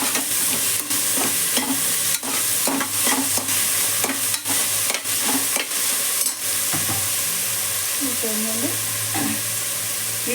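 Coriander and mint, with curry leaves, frying in hot oil for chicken gravy while a spoon stirs them, giving steady close sizzling broken by repeated scraping and clinking strokes against the pan.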